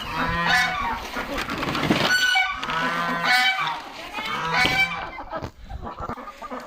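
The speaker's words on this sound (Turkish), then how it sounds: "Bu arada dışarıdaki köy tavuğu, kazları, İran tavuklarını Ördekleri göstereyim kısaca" Village farmyard poultry — geese, chickens and ducks — honk and call in a steady, loud chorus, with goose honks recurring in bursts close by and a voice talking briefly among them.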